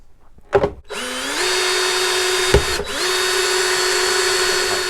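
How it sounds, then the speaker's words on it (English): A power drill with a step bit cuts a 1-inch switch hole on a Harley-Davidson Road Glide, spinning up to a loud, steady whine after brief clicks and a short stall midway. "I got a step drill bit, and I'm going to drill a 1-inch hole"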